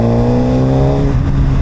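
A Suzuki GSX-R 1000RR motorcycle fitted with an Akrapovic exhaust holds a loud, steady, throaty rev, its deep tone dominating the whole brief moment with no talk.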